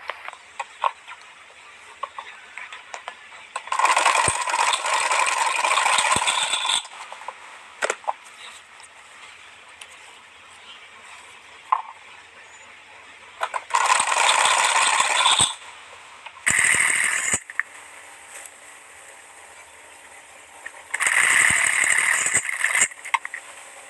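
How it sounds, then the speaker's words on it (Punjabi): A sewing machine stitches piping onto the flared hem of a kameez in four separate bursts of fast mechanical whirring. The bursts are broken by short pauses, and no one speaks. "ਉਸੇ ਤਰ੍ਹਾਂ ਆਪਾਂ ਸਿਲਾਈ ਲਗਾ ਦੇਣੀ ਆ ਉੱਪਰ ਚਾਕ ਤੱਕ"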